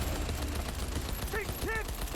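Rapid gunfire crackles in the video game Cyberpunk 2077, dense and continuous, with shouted voices rising briefly over the shooting.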